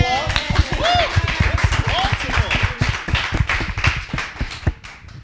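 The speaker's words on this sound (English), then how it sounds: "let's get a round of applause." A talk show studio audience claps in a brisk round of applause, with voices talking over the clapping.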